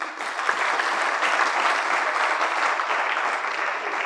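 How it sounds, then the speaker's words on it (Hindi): An audience breaks into a full round of applause, dense and sustained, rising quickly and holding steady at a fairly loud level before easing slightly at the end. "ताली हो जाए भाई।"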